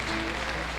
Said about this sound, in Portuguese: Aplaude o Rei Jesus.